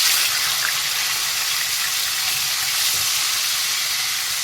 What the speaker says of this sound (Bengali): যে মাছগুলো আমি লেবু নুন হলুদ মাখিয়ে রেখেছিলাম সেইগুলো আমি এবার ভেজে নেব।